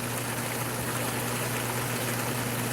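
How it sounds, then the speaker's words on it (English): Steady watery trickle and bubbling from methane rising and popping at the surface of a backyard pond, with a continuous low hum beneath, moderately close and without voices. "That's methane coming up popping."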